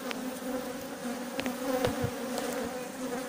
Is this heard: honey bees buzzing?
yes